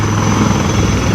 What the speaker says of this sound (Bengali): এই যে চলে এলো ইন্ডিয়ান আর্মির এই যে হেলিকপ্টার ল্যান্ড করছে